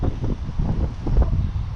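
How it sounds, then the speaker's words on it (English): Gusty wind buffeting the microphone outdoors in a school garden, a steady low rumbling roar with swelling gusts throughout, no voices. "Sorry about the wind if it's too windy."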